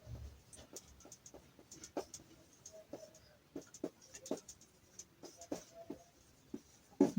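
Writing on a board during a physics lesson, a faint run of short taps and scratchy strokes in uneven bursts, quiet and close in an otherwise hushed room.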